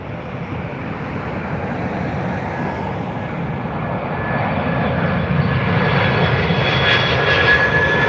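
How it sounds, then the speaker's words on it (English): Jet engines of a Delta Boeing 767-400 roar steadily as it lands at Dublin Airport, a loud continuous rumble with a faint rising whine that swells slightly toward the end. "You could hear the absolute beautiful engines coming out of that aircraft."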